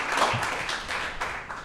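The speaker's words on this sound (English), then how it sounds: "get a round of applause for that" A live talk show audience breaks into applause, a dense, steady wash of clapping that holds for the whole short stretch without fading, with no voices over it.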